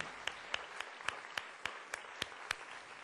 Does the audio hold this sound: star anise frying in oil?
no